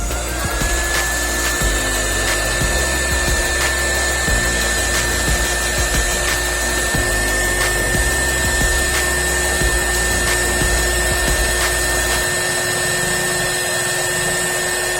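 A hot air gun blows on an SSD board during repair, producing a loud, steady whooshing hiss with a thin constant whine and faint clicks throughout, with no voices.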